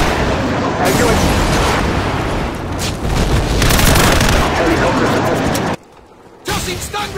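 Loud airstrike explosions and gunfire in Call of Duty 4, a continuous roaring barrage that cuts out briefly near the end before resuming, with voices shouting amid the din.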